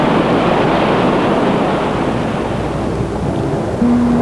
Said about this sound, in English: saw before them the Pacific surf breaking